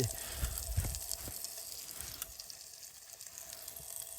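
Sausage frying on a Trangia stove outdoors on a sunrise hike, a faint steady sizzle and crackle with a few low thumps early on, fairly quiet throughout.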